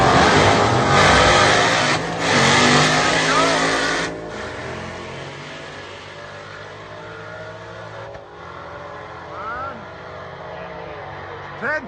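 A Ford Ranger fitted with a swapped Gen 3 Coyote V8 roars loudly under hard acceleration and then holds a steady high-speed drone as the engine note shifts. A voice talks over it at the start.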